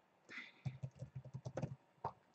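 Rapid keystrokes on a computer keyboard as a short name is typed, about ten quick, even clicks in a close, quiet burst with a final separate tap, no voices.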